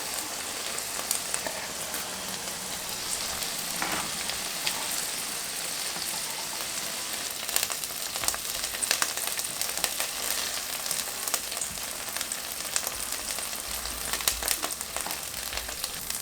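Steak sizzling in a hot pan with olive oil, a dense steady crackle and spatter that runs without pause from start to finish, close and fairly quiet, no talking.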